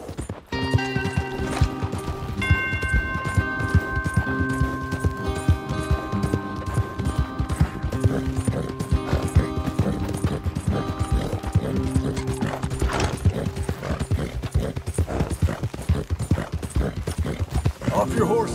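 Horse hooves clip-clop in a steady rhythm in the video game Red Dead Redemption 2, with a whinny and game music mixed in and characters talking over them.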